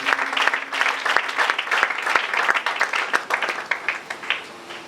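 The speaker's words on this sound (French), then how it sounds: "Acclamons très fort pour le Seigneur Jésus-Christ" A church congregation applauds loudly and steadily, dense clapping sustained throughout with a few sharper individual claps standing out.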